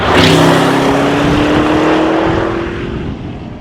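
A 600-horsepower Audi RSQ8 SUV engine revs loudly and close, a sustained throaty roar with a rising then steady tone that fades slightly toward the end, no talking.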